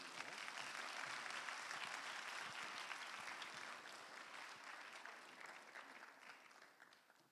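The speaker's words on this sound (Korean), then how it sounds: "우리 다 박수로 환영해 주시기를 부탁드립니다" Seminary chapel audience applauding to welcome a visiting missionary preacher, a full, sustained burst of many hands clapping that stays loud for several seconds before gradually tapering off.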